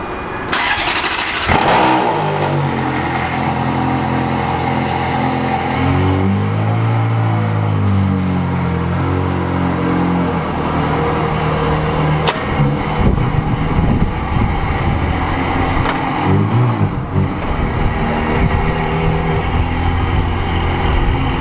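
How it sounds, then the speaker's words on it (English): A Ferrari engine cold-starts after fresh paintwork, cranking and catching into a loud, close rev, then settling into a steady, rumbling high idle that holds throughout. "Let's see the cold start"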